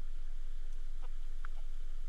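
A chicken in the farming video game Fae Farm gives a few brief, faint clucks over a steady game soundtrack drone, with no talking.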